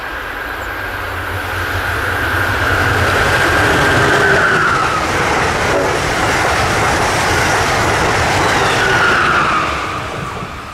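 Amtrak Northeast Regional number 131, a pair of ACS-64 electric locomotives on both ends, races south along the Northeast Corridor, a loud rushing roar with clattering wheels that swells and fades over about ten seconds.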